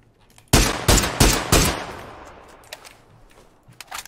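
Four loud gunshots from the battle royale game PUBG crack out in a quick, evenly spaced burst, each ringing into a decaying echo, followed by faint scattered distant shots.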